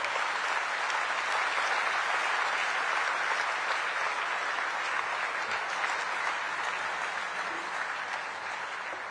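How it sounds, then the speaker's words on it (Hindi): A large audience at the INS Vikrant commissioning ceremony in Kochi gives India's prime minister a welcome of loud, sustained applause that holds steady and fades slightly toward the end, with no speech over it. "जोरदार, दमदार, जानदार तालियों के साथ स्वागत कीजिए"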